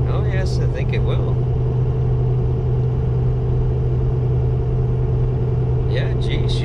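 Pickup truck engine pulling a heavy load in fifth gear at about 100 km/h, a steady loud low drone and rumble throughout, with a voice over it.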